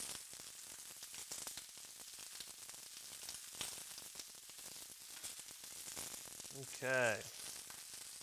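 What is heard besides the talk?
garlic cloves sauteing in a pan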